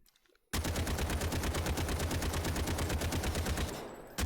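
Full-auto gunfire on a firing range in the video game Delta Force Hawk Ops, a loud rapid stream of evenly spaced shots that starts abruptly and runs nearly four seconds before cutting off.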